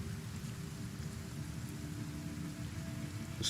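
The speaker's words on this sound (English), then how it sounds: "Acid rain everywhere, too." Acid rain in the video game Kenshi falls as a steady, even hiss with a low rumbling undertone, continuous and uniform with no voices.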